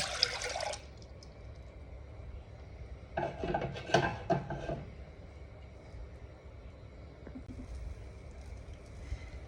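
Unsweetened vanilla almond milk poured into a container, a short liquid splash followed by a burst of gurgling pouring with a few light clinks, close and fairly quiet.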